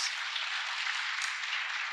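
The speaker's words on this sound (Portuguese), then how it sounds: "Michel, por favor, palmas." A crowd at a youth apprentice event keeps up steady applause, a soft and even wash of many hands clapping at some distance.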